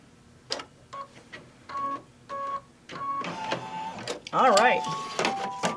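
An embroidery machine finishes stitching a mug rug held in the hoop, giving bursts of rapid mechanical stitching that build into a louder, denser run near the end, with a person talking briefly.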